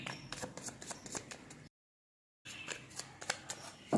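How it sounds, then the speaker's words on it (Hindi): Tarot cards are shuffled near at hand in quick, soft riffling flutters and slaps, quiet overall, with a brief silent gap in the middle. "मैं शफल करती हूँ"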